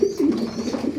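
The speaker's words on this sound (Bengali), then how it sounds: "এই যে এটা কিন্তু নর, সে ওইভাবে ডাকাডাকি করে পরিপূর্ণ আকারে।" A male pigeon coos close by, a low throaty rolling call sustained through the whole second, loud and alone.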